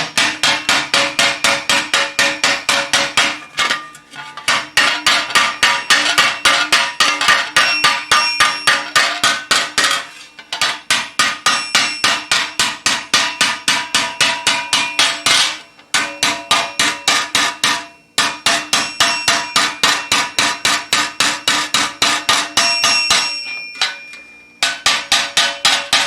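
Steel armour greave struck repeatedly with the narrow peen of a hammer, a loud, close, rapid run of ringing metallic blows with a few brief pauses between bursts.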